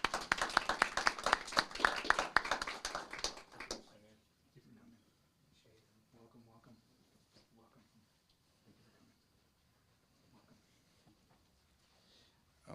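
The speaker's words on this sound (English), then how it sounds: "if we could give them a big Moreno Valley round of applause" Audience applause at a city council meeting honoring community leaders, a burst of loud clapping for about four seconds that stops abruptly, followed by quiet murmured talk and shuffling in the room.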